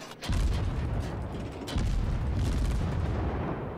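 Naval guns firing armor-piercing rounds in World of Warships, two heavy booming salvos roughly a second and a half apart, each followed by a sustained low rumble that fills the short stretch, close and loud with no speech.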